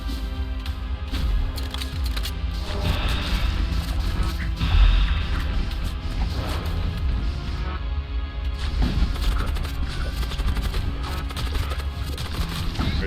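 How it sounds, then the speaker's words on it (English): A storm cannon in the space-combat game Void War fires continuously, producing a dense, unbroken barrage of booming blasts and crashing impacts for the whole stretch. "I forgot to take the storm cannon off firing."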